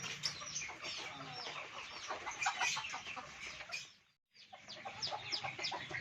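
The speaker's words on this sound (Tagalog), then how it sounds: "a very beautiful chicken" A chicken clucks repeatedly, close by, in busy overlapping bursts, with a brief silent gap before the clucking resumes.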